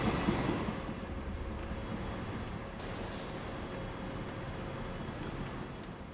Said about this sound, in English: we've got a nice queue of trains in the freight area